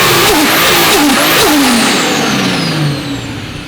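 A JZ engine in a coupe fitted with a tubular manifold and turbo revs hard several times in quick succession, loud and close, then settles into a falling, fading tone.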